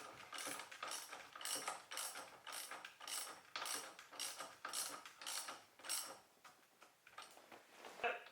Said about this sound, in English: So I am going to have to get my torque wrench out, but tighten this back up.